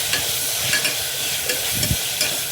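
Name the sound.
tomatoes frying and being stirred in a pan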